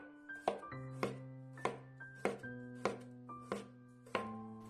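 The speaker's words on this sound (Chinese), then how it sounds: "接下来把去皮的黄瓜切一下" A knife cutting a peeled cucumber into thin slices on a cutting board: about eight crisp, evenly spaced chops, close and clean, over a steady tonal hum and with no talking.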